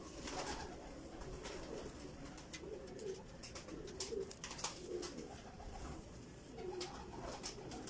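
Pigeons coo softly and repeatedly from a loft of fancy teddy pigeons, their low rolling calls coming one after another at moderate distance over a faint constant background.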